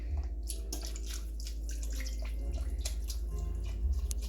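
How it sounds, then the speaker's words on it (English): Bone broth pours steadily over braised short ribs in a pot, a continuous liquid splash with faint dripping over a low background rumble. "what you would do is just add a little more bone broth"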